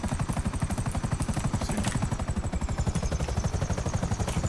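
A helicopter in the video game GTA5 thumps with a fast, steady rotor chop and a constant engine whine, loud and close throughout, with no voices.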